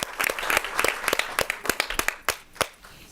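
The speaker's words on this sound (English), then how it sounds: "Yes, let's give him a big applause." Audience claps at a school board meeting, a sparse, uneven scattering of distinct hand claps close by, with no talk over it.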